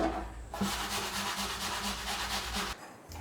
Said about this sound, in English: peel 5 Granny Smith apples or green apples, and then use a box grater to grate all of the sides